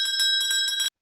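A bright notification bell rings in about five quick, rhythmic strikes, loud and close, then cuts off abruptly into silence.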